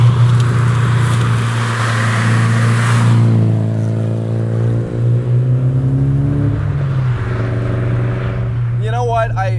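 A Nissan Silvia S15 Spec-R with its SR engine revs steadily, its low exhaust drone rising in pitch as the revs climb, close and loud, with a brief voice near the end.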